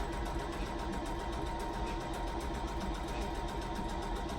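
Sewing machine running steadily as it stitches a straight seam on a two-piece garment, a close, continuous mechanical whir with an even rapid rhythm and no talking.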